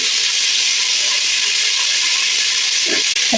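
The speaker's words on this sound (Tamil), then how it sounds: "அது கூட நம்ம கட் பண்ணி வச்ச தக்காளி சேர்த்துப்போம்." Chopped tomatoes hit hot oil in a pan for brinjal gravy, giving a loud, steady, close sizzle that hisses without break throughout.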